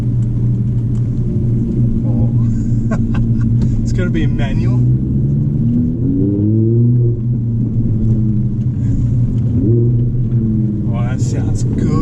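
An Audi R8 V10 RWS fitted with a Quicksilver exhaust revs in dynamic mode, a low, grunty engine rumble rising and falling in a couple of swells beneath steady cabin talk.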